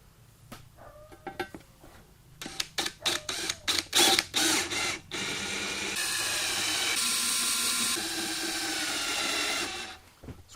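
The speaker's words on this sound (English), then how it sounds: "Now I'm going to use a drill, not an impact driver." A cordless drill drives screws into a Coleman B200 seat suspension: a few short stuttering bursts of the motor and clicks, then one longer sustained whirring run, close and clear.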